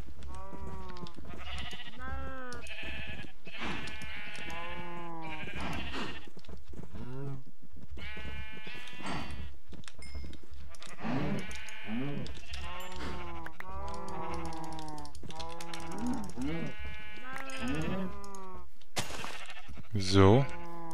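Sheep in the game Minecraft bleat over and over, a series of wavering baas, some overlapping, close by and fairly loud, with a short extra sound near the end.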